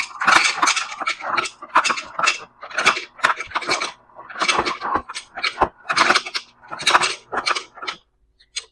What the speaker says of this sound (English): I fill the pitcher with a bunch of ice.